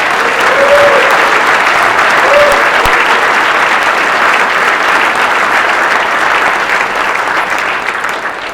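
A banquet audience applauds steadily and loudly for the full stretch, dense clapping from a large crowd indoors that eases slightly toward the end.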